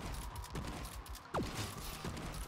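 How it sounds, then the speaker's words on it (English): A shotgun blasts during combat in the Armored Head video game, with one sharp report standing out over a dense, busy mix of game effects and background noise. "let me switch back to my shotgun."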